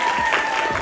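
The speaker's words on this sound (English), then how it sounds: "How about a round of applause for Bailey?" Audience applause for a young circus performer named Bailey at a Ringling show, a brief burst of dense clapping filling the room.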